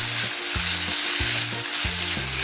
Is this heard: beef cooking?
yes